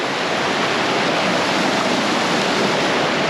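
A fast-flowing, whitewater river rushes in a loud, unbroken roar close by, a dense constant wash with no voices.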